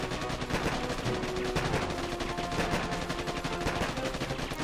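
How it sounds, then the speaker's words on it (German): Sustained machine gun fire from soldiers in the Boom Beach strategy game, a dense, continuous rattle of rapid shots that stays loud and steady throughout with no talk. "Sie verschießen alle ihre letzten Schuss."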